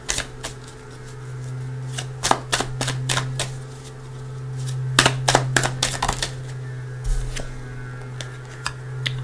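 A deck of tarot cards being shuffled and cut by hand, with sharp clustered riffles and flicks in quick bursts separated by pauses, close and crisp over a steady low hum.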